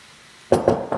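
Cooked chicken and broccoli land in a wok for a cashew chicken stir fry, three clattering impacts in close succession after a brief near-silence, loud and close.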